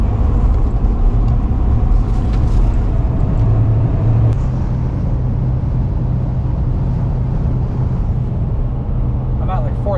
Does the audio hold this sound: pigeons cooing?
no